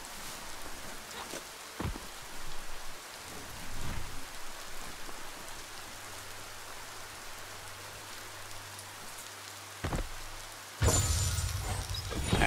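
Rain falls steadily in the video game Biomutant, a dense hiss with a few soft rumbles and thuds, then a sudden loud burst of crackling noise near the end.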